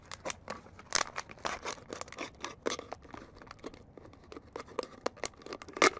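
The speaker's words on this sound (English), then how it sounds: "I'm just going to cut this bottom out of this bottle here" Plastic water bottle having its bottom cut off with a knife or pruning shears, giving a run of close, crisp snipping and crinkling crunches in an irregular rhythm with no talk.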